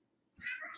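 A short, quiet meow from a cat, rising briefly and fading within a second, with near silence before it.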